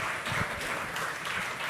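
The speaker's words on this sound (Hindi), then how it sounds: "भाई तालियां बजा दीजिए यार" Audience applauding the cast of the TV show Neerja Ek Nayi Pehchaan at a photo op, a steady dense burst of clapping throughout, fairly loud and close.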